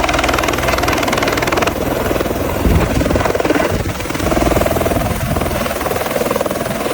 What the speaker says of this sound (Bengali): হেলিকপ্টারটি চারপাশে একটি রাউন্ড দিয়ে এরপরেই ধীরে ধীরে ল্যান্ড করতে শুরু করে